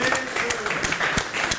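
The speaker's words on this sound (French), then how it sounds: "On applaudit." Audience applause at a French television variety show, dense broadband clapping heard alongside a voice and faint background tones for the whole short stretch.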